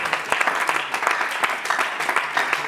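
A church congregation applauds during a service, a dense steady wash of many hands clapping together, loud and continuous with no speech over it.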